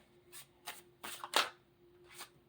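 Tarot cards being shuffled close up: several quick riffling, flapping bursts with brief pauses between them, soft and unaccompanied by talk.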